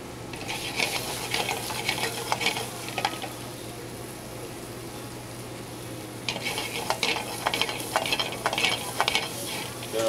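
Mushrooms frying in a pan while making seafood St. Jacques, with a steady sizzle and bursts of stirring and utensil clinks against the pan.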